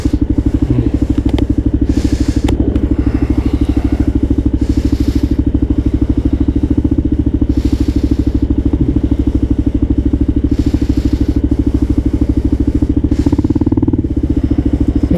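A KLR650 motorcycle rides through New York City streets from Soho toward Harlem, its single-cylinder engine thumping in a loud, steady low rumble throughout, with passing traffic noise and occasional clatter around it.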